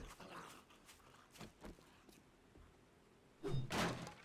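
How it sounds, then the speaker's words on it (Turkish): A dog in the zombie survival game 7 Days to Die gives faint, scattered barks and thuds, followed by a louder burst near the end. "Köpek var. Nereden geliyor?"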